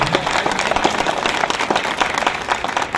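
A crowd at a local ward election gathering claps loudly, a dense, continuous burst of many hands applauding close by for a few seconds, with no talk over it.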